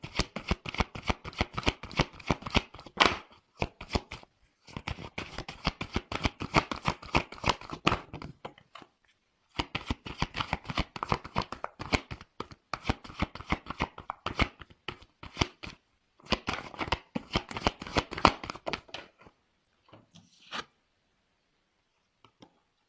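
Tarot cards being shuffled and drawn by hand, dense crisp riffling flutters in rapid bursts with brief pauses, close and fairly loud, ending with a few sparse card slaps and silence.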